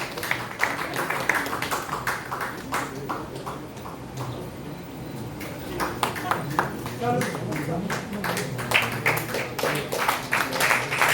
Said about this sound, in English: Keep the claps going, ladies and gentlemen.